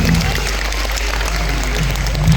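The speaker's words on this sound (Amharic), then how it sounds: "ለራሳችሁ በደንብ አድርጋችሁ አጨብጭቡ" An audience claps continuously at a kindergarten graduation celebration, a dense, loud, even patter of many hands filling the whole moment with no break.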